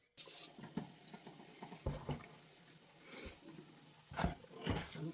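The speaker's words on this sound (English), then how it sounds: "Bring it over to the sink and fill it up." Water runs from a kitchen sink tap into a cooking pot holding chicken and bay leaves for homemade soup, arriving in uneven splashing bursts with handling clunks and gaps between, close by.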